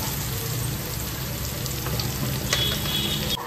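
Fish frying in a pan at home, a steady hiss of sizzling oil that holds even and fairly close, with a faint light clink near the end.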